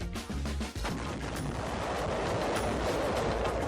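A massive blast of 600 pounds of TNT at Fort Drum booms out, then a long, dense roar and rumble of debris and shockwave that continues loud and unbroken to the end.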